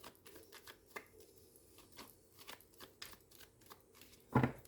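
A deck of 32 playing cards being shuffled and cut, heard close as soft, quick riffling taps and one louder flutter near the end, with no voices.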